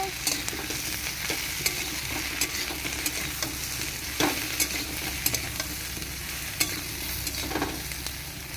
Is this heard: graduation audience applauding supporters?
no